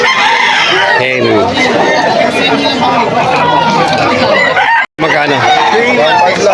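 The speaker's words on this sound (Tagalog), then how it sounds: "Hen." Hens cluck and a rooster crows at a busy poultry sale, up close and loud. Steady chatter and background voices run beneath the birds.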